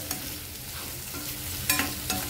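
Fried capsicum and onion stirred in a pan for paneer bhaji, a steady close sizzle with a few scraping spatula strokes near the end.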